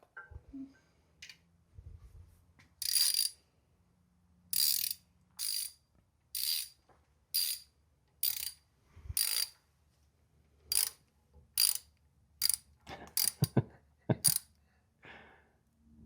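A ratchet clicks in short repeated bursts while an engine bolt is worked loose during a roller cam install on a Henry J, each burst a quick metallic rattle with pauses between, close and clear with no talk.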